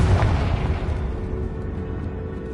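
Deep, rumbling explosion from the Confringo fire spell in the video game Hogwarts Legacy, loud and close at the start, then a long rolling boom that decays slowly over a couple of seconds with no voices.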